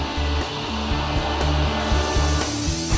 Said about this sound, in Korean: 이제 진공청소기로 실내 바닥과 시트의 모래나 먼지 등을 꼼꼼히 제거해줍니다